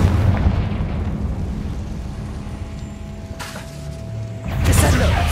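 A Confringo fire spell blasts in Hogwarts Legacy, heard as a loud burst that lands over a rumbling game soundscape, followed moments later by another heavy impact, with no talking.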